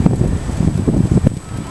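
Wind buffets a microphone on the seafront at Brighton, a continuous rough low rumble that gusts up and down, with possible faint voices underneath.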